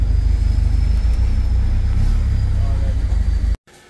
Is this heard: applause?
no